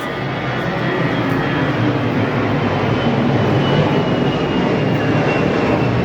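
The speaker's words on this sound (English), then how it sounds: "planes going over." A loud, continuous engine roar of aircraft passing overhead, steady and broad throughout, with no speech.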